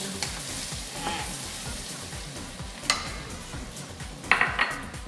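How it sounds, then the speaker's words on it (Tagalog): Onion sautéing in butter in a pan for buttered shrimp with garlic, a steady close sizzle with a few sharp utensil clinks against the pan. "Luto natin ng konti yung onion para humalo yung lasa niya sa ating recipe."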